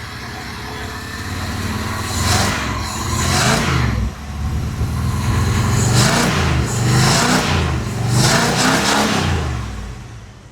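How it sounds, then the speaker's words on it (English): An old AMC 360 engine in a Jeep Wagoneer with a 500 CFM Holley carburetor is revved hard several times, its loud rumbling roar rising and falling in repeated throttle blips over a steady idle. "You can't be that mad about this old engine taking throttle like that."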